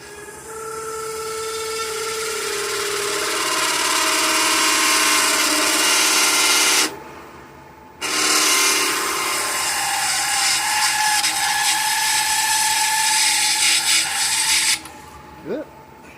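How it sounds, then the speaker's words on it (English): A power drill bores a hole sized for a tap in a workshop, a loud steady whine rising slightly in pitch, pausing briefly midway, then resuming before stopping near the end. "now we can drill out for the tap"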